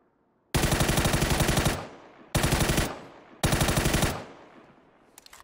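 S12K shotgun firing in the video game PUBG: three loud, rapid bursts of gunfire, each a rattling volley of shots lasting about a second, with a brief echoing tail and faint clicks at the end.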